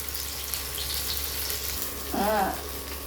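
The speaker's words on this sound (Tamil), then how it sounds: "வவ்வா மீன் வறுத்துக்கிறேன் பாருங்கள்" Pomfret fish coated with chilli powder frying in hot oil, a steady soft hiss throughout with a brief tonal squeal near the end.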